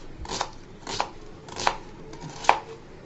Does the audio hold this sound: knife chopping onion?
yes